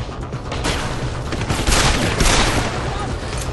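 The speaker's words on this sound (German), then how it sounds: "Ganz ehrlich, warum knallen die mich ab?" Dense gunfire from enemies in the video game Deus Ex, a loud continuous fusillade of overlapping shots and bursts filling the whole stretch.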